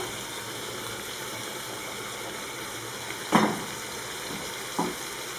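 Sliced onion frying in a pan for beef tajine makes a steady, fairly quiet sizzle under a constant hum, with two brief louder scrapes or clatters of stirring near the end and no speech.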